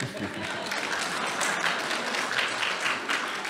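An audience at a lecture breaks into steady, dense applause that fills the whole stretch at an even level. Faint voices sit beneath the clapping.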